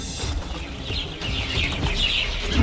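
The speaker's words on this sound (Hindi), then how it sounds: "तेरी मुर्गियों ने शोर मचाकर मेरे कान खराब कर दिए हैं" Chickens in a village yard clucking and squawking, with several overlapping bird calls and a brief flutter, close and fairly loud throughout.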